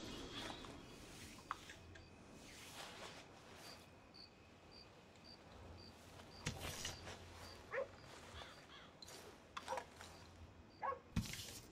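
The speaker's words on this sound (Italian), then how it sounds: "Oddio, cane." A dog in Red Dead Redemption 2 barks and whimpers in a few short, scattered yelps, moderately near, over a steady chirping of crickets in an outdoor night setting.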